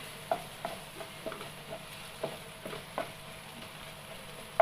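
Cumin seeds crackle faintly in hot oil while a spoon scrapes and stirs the pan, giving soft irregular clicks and taps over a quiet sizzle.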